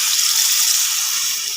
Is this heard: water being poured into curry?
yes